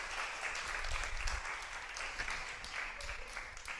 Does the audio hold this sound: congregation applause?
yes